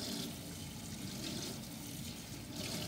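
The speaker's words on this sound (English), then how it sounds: "I'm gonna rinse my cloth again." Tap water runs steadily while a cleaning cloth is rinsed under it at a kitchen sink, making a continuous close splashing rush without any speech.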